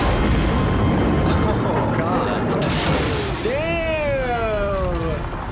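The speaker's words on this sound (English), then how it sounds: "That was a badass explosion." An explosion from a Star Wars film: a dense rumbling blast with crackling debris, then rising whistling tones like laser or ship sounds, all loud and continuous.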